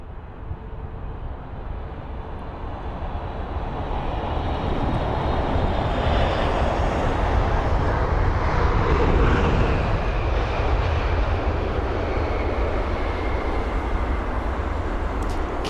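An Egypt Air Boeing 777-300ER landing at London Heathrow makes a broad jet roar that swells from moderate to loud and holds as the airliner passes close, then eases slightly.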